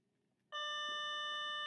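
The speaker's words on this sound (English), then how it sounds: "there's the bell." A school bell starts abruptly and rings on loud and steady, a sustained electric tone in a classroom during a math lesson.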